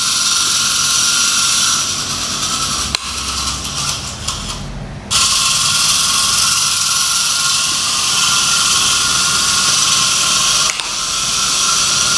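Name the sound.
small homemade tractor running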